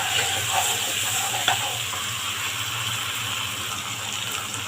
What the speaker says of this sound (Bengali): 5 মিনিট আমি কষিয়ে নেব